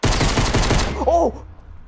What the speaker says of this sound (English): Sorry, I was testing the pistol out.